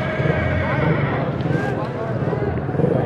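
A mare at a horse market in Amenpur neighs and whinnies amid steady loud outdoor noise, with hoof clip-clop and a busy crowd of voices continuing throughout.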